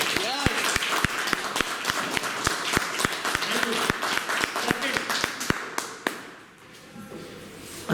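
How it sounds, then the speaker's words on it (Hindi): Audience at a training session in Jaipur clapping loudly and rhythmically in unison, a steady beat of sharp claps that stops after about six seconds, followed by brief quiet and a voice. "क्या दिल से जोरदार तालियां होनी चाहिए?"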